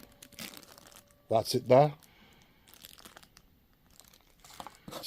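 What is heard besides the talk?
crinkling plastic wrapping of Behringer UB-1 unboxing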